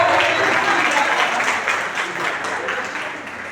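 A church congregation in worship applauds together, dense steady clapping filling the space and gradually easing off, with no voices standing out.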